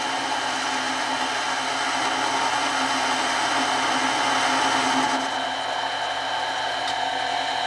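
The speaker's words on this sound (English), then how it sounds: "I'm using a carbide cutting tip to rough this out." A mini lathe roughs down a standard unhardened steel bolt with a carbide cutting tip, giving a steady, loud whirring motor drone with a grinding cutting hiss that eases slightly toward the end.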